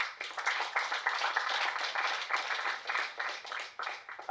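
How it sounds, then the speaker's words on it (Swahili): Audience applause for an artist who makes art from waste at a youth agribusiness competition event, steady dense clapping throughout at moderate distance with no talk. "Wapi makofi ya msanii?"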